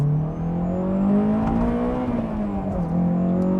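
A Honda S2000 exhaust revs hard while driving, the engine note climbing steadily toward high RPM and staying loud and close throughout, with a smooth rising howl and a brief dip near the end.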